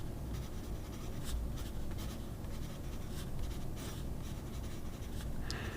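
Pencil lead in a lead holder scratching steadily across paper, a continuous close, soft scraping with small bursts as strokes change direction, no voices.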